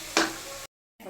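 Cashew and poppy seed paste stirred in a hot oiled pan, a brief burst of scraping and sizzle followed by low frying hiss, a sudden cut to silence, then the sizzle resuming.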